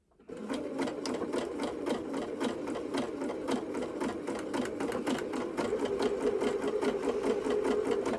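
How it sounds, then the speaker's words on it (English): A sewing machine stitches forwards and backwards at slow speed on dress fabric, its needle tapping in a steady, even rhythm with a close motor whir, slightly louder toward the end. "Now I have got this on quite a slow speed because I thought it might be more helpful to see it a little bit slower."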